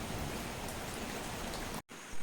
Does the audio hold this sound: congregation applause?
no